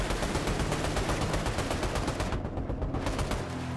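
Rapid gunfire in the video game Fortnite, a loud, steady burst of closely spaced shots filling nearly the whole clip, briefly thinning near the end.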